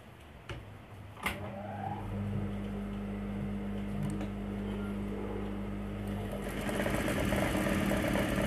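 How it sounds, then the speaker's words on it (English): A sewing machine runs gather stitches through fabric, with a few clicks as it starts, then a steady whirring motor hum that holds for several seconds before the pitch shifts toward the end. "I want to gather this piece of fabric. So I'm running gather stitches."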